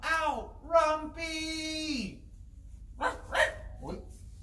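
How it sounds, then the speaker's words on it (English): A small dog, plainly a toy or puppet character in a children's play session, gives two barks: one drawn-out, whining bark followed by a shorter, sharper one after a pause, close and clear with no talk over them. "I heard two barks."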